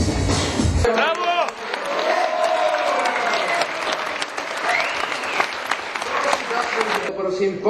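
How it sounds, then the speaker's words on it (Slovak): Audience applause for beauty pageant contestants, dense sustained clapping from a large crowd that fills the room steadily for several seconds, with a voice speaking briefly at the very start. "Prosím, potlesk pre všetky súťažiace."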